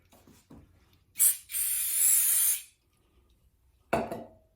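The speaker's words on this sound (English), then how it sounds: "A little bit more carb spray." A steady hissing spray of carburetor cleaner from an aerosol can, lasting about a second and a half, with faint clicks and a short thump before and after, on a Homelite XL chainsaw carburetor.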